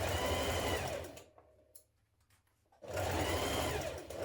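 A sewing machine runs steadily while stitching the underarm seams of a cocoon dress, stopping for about a second and a half in the middle before whirring on again, close and continuous.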